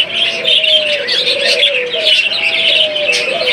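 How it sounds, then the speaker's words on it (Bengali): A pair of rainbow mutation budgerigars chirp and warble almost nonstop at close range. The high chattering is layered over soft, low cooing from other caged birds nearby. "এখানে দেখতে পাচ্ছেন একজোড়া রেমবো মিউটেশনের বাজিগার দেখতে পাচ্ছেন"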